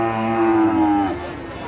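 A Limousin calf about five to six months old moos in a long, loud, drawn-out call at a livestock cattle market, tapering off near the end amid background market noise.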